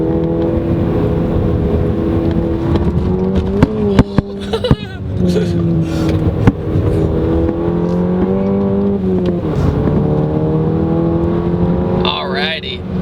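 A 2015 Volkswagen GTI hot hatch is driven hard, its engine droning and rising and falling through the gears from inside the cabin, with brief clicks and someone talking over it.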